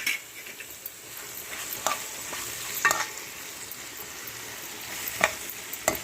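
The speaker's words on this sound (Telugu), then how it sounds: "మీరు ఎంత కూర తీసుకుంటారో అంత కూర పొట్లకాయ తీసేసుకుని బాగా వేయించుకోవాలి." Ridge gourd curry is stir-fried in a pan, giving a continuous close sizzle broken by irregular scraping and tapping strokes of the spatula against the pan.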